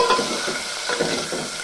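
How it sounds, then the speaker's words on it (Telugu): Pieces of bottle gourd are stirred into a tempering of spices and dried red chilli in hot oil, with a close, steady sizzle and rhythmic scraping strokes. "దీంట్లో సొరకాయ ముక్కలు వేసేస్తానండి."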